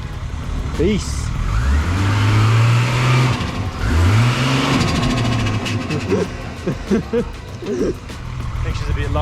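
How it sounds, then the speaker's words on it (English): A VL Calais Turbo with a lumpy cam idles after a cold start, its uneven engine note rising in short revs and settling back, close by, with people talking over it. "You can hear that cam on that cold start a little bit."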